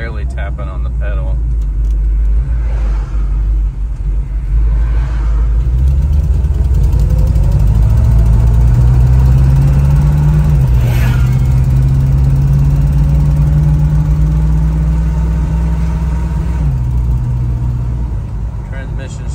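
A 1965 Chevrolet Nova drives, its engine rumbling loud and close while the pitch climbs through the gears and then settles, with a voice speaking briefly over it.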